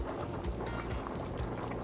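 Hot water pours into a Dutch pot of oxtail, a steady, close liquid stream splashing and gurgling into the pot at moderate volume throughout.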